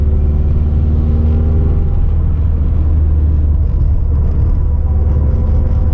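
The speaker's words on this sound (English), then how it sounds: "If you're hearing a bit of like rumbling, that's just the dash." Low steady rumble inside a 17-year-old car with an Invidia bellmouth downpipe while driving, the dashboard vibrating over continuous loud engine and road drone with no talk.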